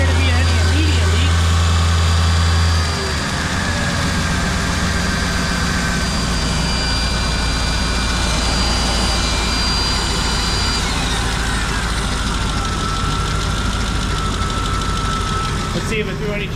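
A high-mileage Mercedes-Benz car engine idles steadily after a vacuum part repair, a constant low rumble with a faint whine running throughout, loud and close, with no talk over it.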